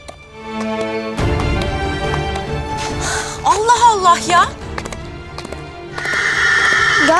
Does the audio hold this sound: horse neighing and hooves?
yes